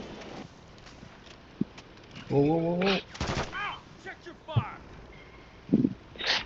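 Gunfire in the Warzone 3 video game, Plunder mode: scattered single shots and short bursts mixed with game effects, under players talking and calling out.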